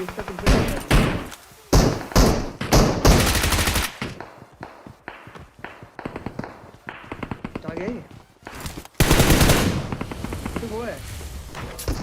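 M4 rifle fire in the mobile game Battlegrounds Mobile, heard as dense bursts of rapid automatic shots with short gaps between them. A player talks over much of the shooting.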